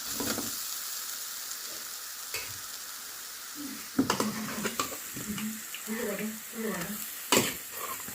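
Chicken pieces frying in a pan, a constant sizzle with spoon scrapes and a couple of sharp clanks against the pan, close up, with some faint voice-like sounds underneath.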